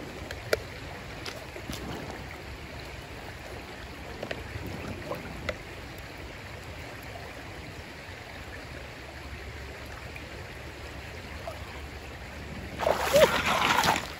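Water from Kennedy Creek is scooped up for a sample: a soft, steady outdoor hush with faint ticks gives way to a brief, close burst of splashing near the end.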